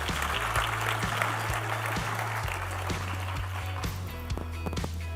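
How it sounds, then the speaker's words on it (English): Conference audience applauding steadily at an investment conference session in South Africa, a dense, even wash of clapping with a low steady hum underneath and no speech. "A round of applause."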